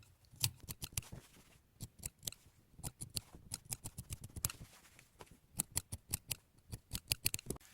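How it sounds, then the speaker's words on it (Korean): Scissors snipping through outer mask fabric along a chalk line, close and crisp, in irregular bursts of quick repeated cuts with short pauses between runs. "겉감은 요 선 밖으로 잘라주세요."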